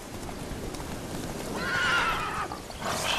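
The horse Roach gallops in The Witcher 3 with rapid, steady hoofbeats and a brief whinny partway through, heard fairly close against a game soundscape.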